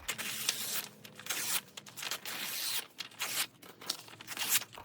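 Paper pages from a music book or old book being ripped by hand into rough-edged pieces, a steady run of close, crisp tearing bursts with soft crinkling between them.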